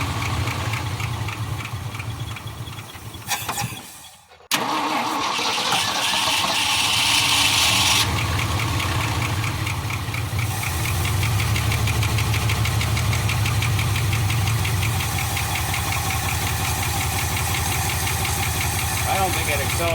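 Abandoned 1975 Ford F500 rollback truck, with a carburetor fault, barely running after years in a field: a rough, uneven knocking idle that stumbles and nearly cuts out, then drones on steadily, close and loud.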